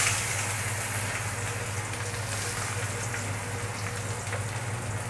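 Chopped onions frying in hot oil in a wok with cardamom, cinnamon, cloves and bay leaves, giving a steady, dense sizzle and crackle that continues evenly throughout with no talk.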